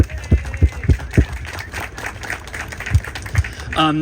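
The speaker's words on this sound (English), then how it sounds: "I'd like to give everybody a round of applause" Small gathering at a historical museum gives a round of applause, a few distinct sharp claps at first, then scattered lighter clapping, with a voice starting at the end.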